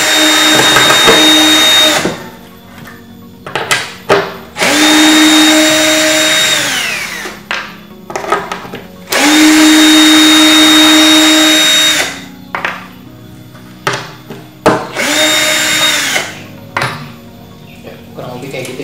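A Benz Werkz BZ 8105 cordless impact drill runs in loud bursts, three long spins of the motor with short stops between them and a few clattering knocks in the gaps.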